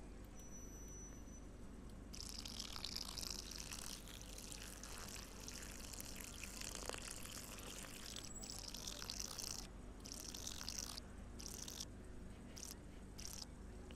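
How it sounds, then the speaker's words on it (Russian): Chicken broth poured into a cooking pot in the Cooking Simulator video game: a steady, hissing liquid pour that starts about two seconds in, runs for several seconds and then breaks into a few shorter bursts, with no voices. "Наливаем 700 куриного бульона."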